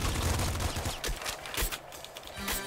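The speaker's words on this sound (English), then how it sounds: "Brutality from the pop gun." Rapid popping shots from a pop gun in the wasteland shooter Nuclear Throne, a quick rattling string of short snaps scattered among other game effects. The shots are moderately loud with no talk over them.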